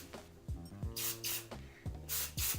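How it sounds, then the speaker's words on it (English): Two bursts of Fave 4 and do-over hairspray hiss onto freshly curled hair, each about half a second long, close and loud, with brief sounds of the can being handled between the sprays. "I'm going to use a little bit of do-over. And I'm going to spray it in"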